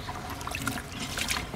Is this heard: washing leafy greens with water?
yes